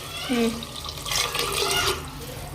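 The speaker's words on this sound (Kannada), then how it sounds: "ಈಗ ಅದಕ್ಕೆ ನಾಲ್ಕು ಗ್ಲಾಸ್ ನೀರು ಅಷ್ಟು ಹಾಕೊಳಕತ್ತೇನೆ" Water poured from a glass into rice in a cooking pot, a few short splashing pours at close range, with a voice talking over part of it.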